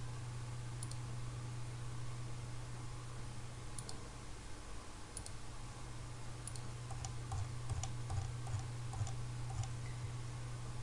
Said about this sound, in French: On saisit ou on tape du texte.